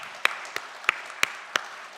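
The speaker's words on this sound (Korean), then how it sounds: "우리 박수로 환영하겠습니다." During a Sunday church service, the congregation offers a sparse welcome to visitors: five separate sharp claps, evenly spaced and clearly audible over a quiet room.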